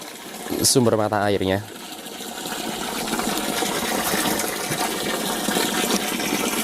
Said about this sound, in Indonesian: ini adalah sumber mata airnya